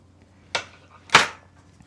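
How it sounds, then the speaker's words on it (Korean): Scissors snip crochet yarn while finishing a small star-shaped Christmas ornament, two quick sharp cuts about half a second apart, close and clear in a quiet room. "가위로 잘라서"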